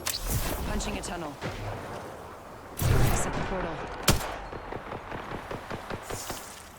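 Gunfire in the Apex Legends video game crackles through a dense mix, with rapid shots and a couple of sharp louder bursts under steady excited talk from players.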